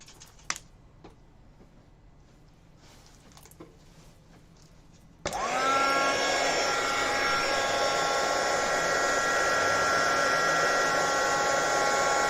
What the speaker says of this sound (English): Is that loud to you guys? Or does it sound like a dryer?